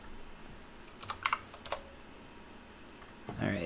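Someone types on a computer keyboard, a few quick keystroke clicks in short bursts heard close and fairly quiet, before a voice begins speaking at the end.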